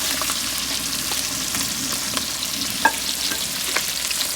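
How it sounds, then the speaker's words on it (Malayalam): Sliced onion and green chillies fry in hot oil for Kerala-style chicken biryani. The sizzle is continuous and crackling, with occasional stirring scrapes and clicks, and no one speaks. "അതിലേക്ക് മസാല ഇടാവുന്നതിനായിട്ട് ഞാൻ സവോളയും പച്ചമുളകും കൂടെ ചേർത്ത് കൊടുക്കാം"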